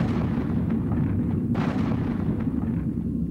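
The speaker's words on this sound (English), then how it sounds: "A heavy caliber gun that had been in use by American forces since the Second World War, the 105mm howitzer." A 105mm howitzer fires from a gunship, a heavy booming blast with a sharp report partway through over a dense, continuous low rumble.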